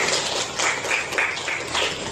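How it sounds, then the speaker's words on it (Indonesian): Students in a classroom give a round of applause, a fairly quiet, patterned clapping with rhythmic pulses, close but soft, with no clear talking. "Tepuk tangan untuk kita semua."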